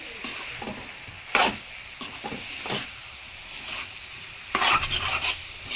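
Meal maker soy chunks are stirred and tossed in a pan with a low sizzle underneath, giving several distinct scraping, clattering stirs spaced irregularly and a louder burst of stirring near the end.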